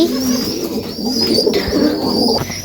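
Native pigeons coo steadily and close by in farm coops, low rolling calls repeating throughout with faint background hiss.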